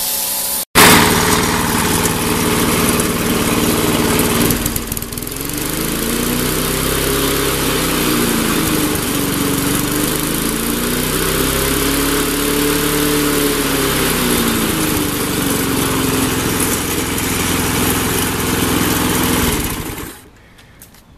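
A 17-year-old pull-start lawn mower engine runs steadily for about twenty seconds, its pitch rising and falling slightly as the throttle shifts, loud and close, then cuts out.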